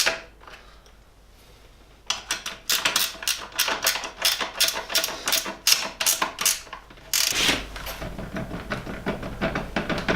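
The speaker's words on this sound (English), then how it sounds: "That is the play and the bearings that go through there." Spinning rear wheel of a mountain bike with worn, loose bearings, giving a close, loud, rapid rattling and clicking that starts after a quiet opening and continues steadily to the end.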